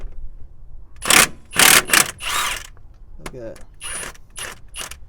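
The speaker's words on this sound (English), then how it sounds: "Here I have my Milwaukee 2763, the 1/2 inch high torque impact." Milwaukee 2763 half-inch high-torque cordless impact wrench with a 22 mm shallow socket hammering on the crank bolt of a high-mileage Mitsubishi 3000GT VR4, several loud rattling bursts separated by short pauses, with brief talk in between.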